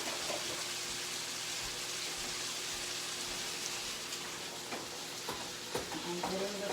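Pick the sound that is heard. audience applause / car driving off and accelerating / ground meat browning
ground meat browning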